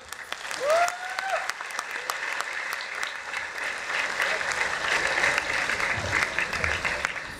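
Sustained applause from an audience at a coaching-institute felicitation for a student who topped JEE Advanced 2023, steady dense clapping filling the room throughout, with no voices rising above it.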